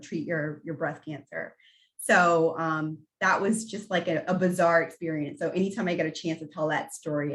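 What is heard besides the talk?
No everyday noises stand out.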